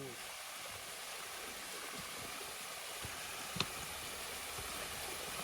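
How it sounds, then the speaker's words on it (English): Waterfall on the Bartram Trail heard as a steady, faint rushing hiss of falling water, continuous and even, with a single brief knock partway through. "Here's the waterfall"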